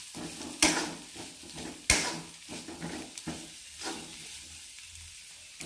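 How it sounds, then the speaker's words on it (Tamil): Onions saute in a pan for chutney, a soft continuous sizzle broken by several sharp scrapes and knocks of a spoon stirring against the pan. "நல்லா வதக்கிக்கலாம்."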